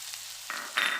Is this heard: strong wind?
no